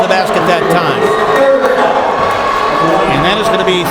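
A big crowd at the Melrose vs Albany basketball game, a steady loud murmur of many voices filling the gym, with a commentator talking over it.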